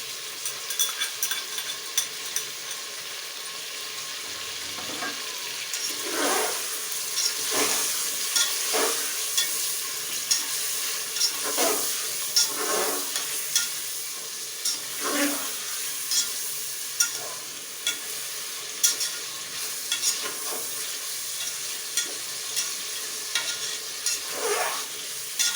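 Meat frying in a pan with ginger garlic paste, stirred with steady scraping strokes over a continuous sizzle, moderately loud and close, with no voices.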